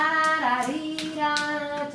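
Hand claps at a Cuban music workshop for a band: a few short, crisp claps in a loose rhythm over sustained instrumental tones, close and fairly loud.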